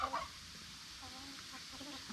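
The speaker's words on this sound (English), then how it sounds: "Here come all the baby turkeys." Young turkeys on a homestead give faint chirping clucks, one brief burst at the start and softer calls later over a quiet outdoor background.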